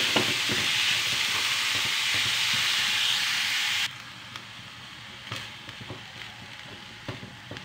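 Meat sizzles loudly in a hot pan with a steady frying hiss, then the noise drops abruptly to a quieter crackle with occasional stirring scrapes and clinks.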